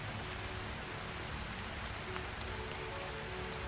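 Steady rain falls outdoors, a dense continuous hiss of drops hitting surfaces with occasional closer patters, even and unbroken throughout, with no voices.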